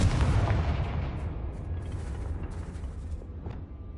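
A Confringo spell blast in Hogwarts Legacy, one heavy booming explosion up front whose rumble slowly decays over several seconds, loud and close, with faint crackles trailing off.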